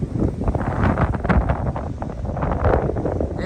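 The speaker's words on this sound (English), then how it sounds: "Still windy, about 49 degrees out." Steady wind roars across a hilltop on the Appalachian Trail on a cool day, loud continuous rumbling gusts pressing on the microphone without a break.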